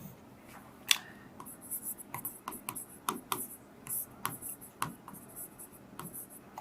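A pen or chalk writing out a formula during a physics class, faint scratches and sharp taps in an irregular rhythm, close by and fairly quiet, with no talk.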